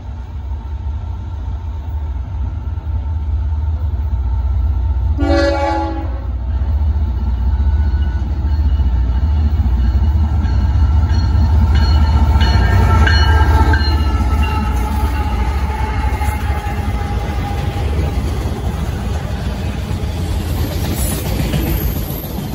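Train Q204 rumbles steadily past at close range, loud and continuous, with a short horn blast early on and wheel clatter throughout.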